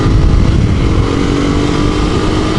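A Honda CBR250R motorcycle with a Delkevic exhaust roars steadily nearby, a loud continuous rumble with a slight revving edge throughout.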